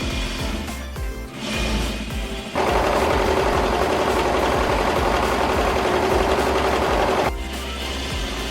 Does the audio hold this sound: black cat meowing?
no